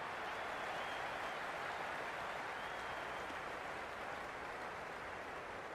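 Cricket crowd applause in the Cricket 26 video game, a faint, even wash of clapping and crowd noise that holds steady throughout, with no talk over it.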